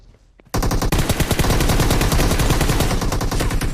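Sustained automatic gunfire in a shooter video game, an unbroken rapid rattle of loud shots that erupts abruptly after a brief quieter moment and continues to the end.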